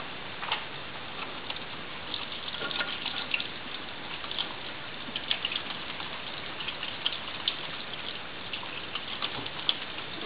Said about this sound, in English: always wash your hands with cold or warm running water and soap